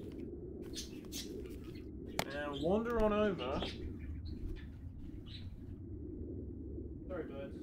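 Pet birds in a room chirp and tweet, and one lets out a loud, warbling call near the middle. Someone speaks over the birds at times, and lighter chirps come back near the end.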